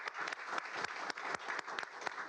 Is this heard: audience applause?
yes